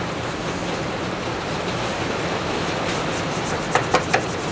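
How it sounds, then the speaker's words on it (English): A Scotch-Brite pad scrubs a metal part from a Cub Cadet snowblower, making a steady, close, raspy rubbing sound, followed near the end by a few sharp light taps and clicks. "I'm just going to Scotch Brite that off"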